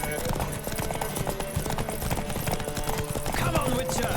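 A horse gallops with rapid, continuous hoof clip-clop in The Witcher 3, loud and steady throughout, mixed with game sound and a voice speaking over it.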